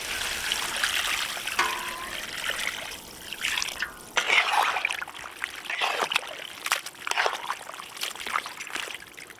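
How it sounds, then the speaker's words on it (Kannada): Water trickles and splashes into a pot of spiced country chicken being cooked, a close, uneven pouring stream with brief pauses and light drips, no voices. "ಬನ್ನಿ ನೀರು ಹಾಕೊಳ್ಳೋಣ."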